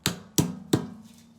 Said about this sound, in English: this is a rawhide mallet, but you can have a rubber mallet or a hammer, or even a piece of wood or something, but just kind of tap those in